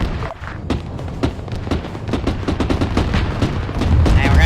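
Gunfire rattles through a military video game battle, dense and loud, with rapid shots and booming impacts layered over a continuous low rumble that swells toward the end.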